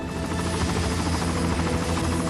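A Bell Jet Ranger helicopter roars loud and steady at close range, its dense rotor and turbine drone continuous without pause.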